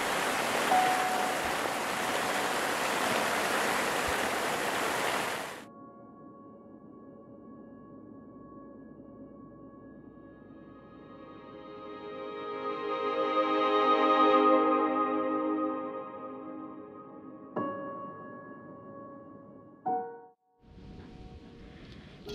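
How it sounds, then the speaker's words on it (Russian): Heavy autumn downpour at a riverside campsite on the Dnieper: a loud, dense, steady roar of rain for about five seconds that cuts off abruptly, followed by quieter, unrelated tonal sounds. "просто посмотрите, какой ливень пошел"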